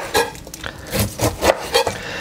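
A knife cuts strips of skin off a pineapple in a series of short scraping, rasping strokes, about five distinct cuts at an uneven rhythm, close up with no speech.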